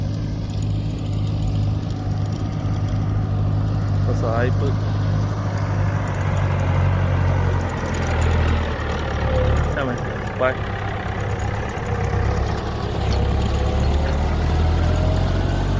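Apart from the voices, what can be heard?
farm tractor-like vehicle engine running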